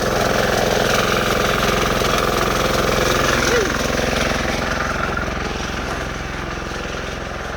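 A Bolens 1600H Hydro garden tractor engine runs at a steady idle nearby, a continuous mid-pitched mechanical drone that eases slightly toward the end.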